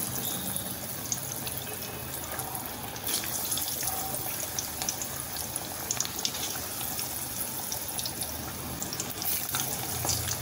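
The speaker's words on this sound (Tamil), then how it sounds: "ஆயில் காஞ்சிருச்சு, இப்போ ஒவ்வொன்றா எடுத்து போட்டுடலாம்." Masala vadai fry in hot oil, a steady close bubbling sizzle that holds for about ten seconds, with light crackles and a slight swell in intensity partway through.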